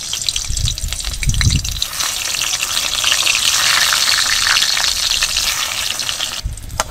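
Aubergine slices fry in hot oil with a loud, steady sizzle, following a brief clatter as they go in, and the hiss stays continuous and close throughout.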